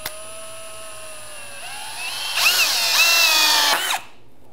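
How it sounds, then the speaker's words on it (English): A regular power drill whines steadily as it drives a hidden fastener into PVC exterior door trim, rising in pitch and growing louder with a grinding edge as the screw sinks, then stopping abruptly; no talk. "So I have my bit in a regular drill."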